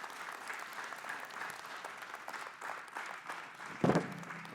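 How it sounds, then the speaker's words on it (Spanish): An audience at a psychology talk applauds, a moderately close wash of many hands clapping that swells and dips, broken near the end by a brief louder thump. "Vamos a darle un fuerte aplauso"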